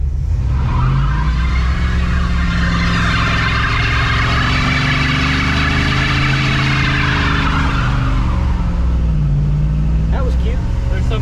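Junkyard Dodge with its hood open revs hard through a burnout attempt, a loud sustained engine roar with a broad tire squeal building for about eight seconds before fading, voices briefly heard near the end.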